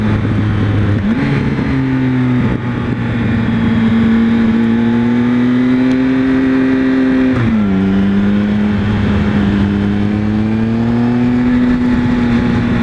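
A loud Triumph Speed Triple motorcycle engine drones steadily, its pitch climbing and dropping as it revs through gear changes.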